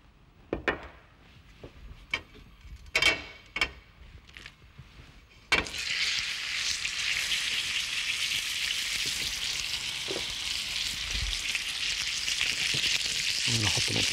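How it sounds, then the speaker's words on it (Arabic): A leg of meat hits hot butter or oil in a pan: after a few sharp clatters and knocks, a loud, steady sizzle starts abruptly and carries on evenly, close to the microphone. "ممكن أحط حتة زبدة أو شوية زيت عشان أحمر اللحمة تحمير سريع"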